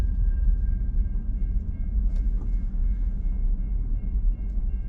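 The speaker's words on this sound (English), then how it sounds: "Here comes a choo-choo train." A train rumbles past in a small Georgia town, a steady low-pitched roar with faint high whining tones, heard continuously at moderate distance with no talk.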